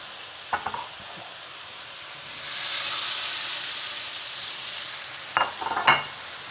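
Onions fry in a pan with a steady sizzle that swells midway, while a spoon clacks and scrapes as they are stirred, close up and with no voices.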